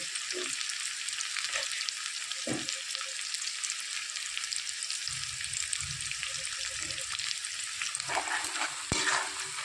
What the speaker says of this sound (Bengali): পেঁয়াজটা ভাজাতে হতে ততক্ষণ আমি আদা রসুনের পেস্টটা করে নেব